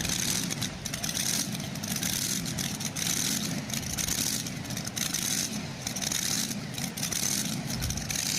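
Supercharged Hemi pulling tractor engine at a county fair truck and tractor pull, idling a little fast with a heavy, uneven lope, a steady loud low rumble that runs on throughout without pause.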